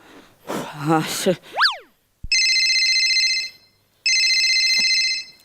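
During a Marathi comedy stage performance, a phone rings in two long electronic ringtone bursts separated by a short gap, preceded by speech and a cartoonish boing effect.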